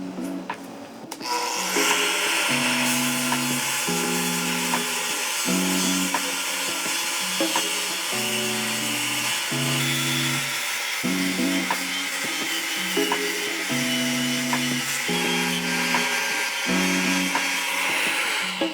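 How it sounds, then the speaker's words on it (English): Grinding discs on a surface grinder take forge scale off steel in a loud, continuous abrasive hiss, with tones shifting in a rhythmic pattern as the work passes back and forth beneath the wheel, heard close with no talk. "We're gonna start with this and test these grinding discs out"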